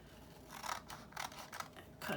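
Scissors snipping through paper while trimming a coin envelope flap, a few short crisp cuts spaced irregularly, close and quiet with no talking.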